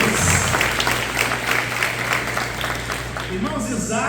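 A church congregation breaks into a loud, sustained round of applause for the Lord during a sermon, dense clapping with a low hum underneath and a voice coming in near the end.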